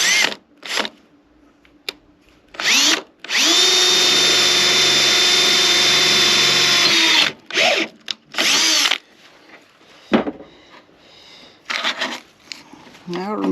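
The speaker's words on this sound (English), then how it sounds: "Going to go ahead and drill this hole." A cordless drill bores a hole in a Mustang hood area, running in a few short bursts, then one long steady whine for several seconds, loud and close, with handling noises after.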